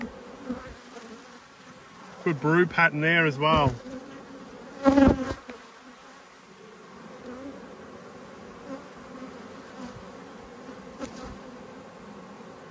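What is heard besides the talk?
honey bees buzzing at hive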